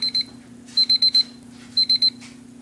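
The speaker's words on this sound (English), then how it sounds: "The bread timer went off" A bread machine's timer alarm beeps in three quick bursts of rapid electronic chirps, loud and close over a steady low hum, with no talking.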